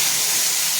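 Water poured into a hot cooking pan with vegetable stalks and turmeric, giving a loud, steady steamy hiss that fills the brief moment close up.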